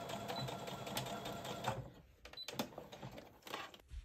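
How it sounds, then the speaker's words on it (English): A sewing machine runs a straight stitch with a backstitch, rattling in a fast steady chatter, pausing briefly as it reverses, then resuming in shorter bursts close by. "I'm gonna go over to my sewing machine and do a straight stitch to that dot and backstitch right there."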